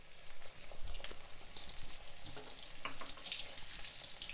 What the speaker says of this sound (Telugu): కట్ చేసుకున్న మిరపకాయ బజ్జీల్ని ఈ నూనెలో వేసుకోవాలి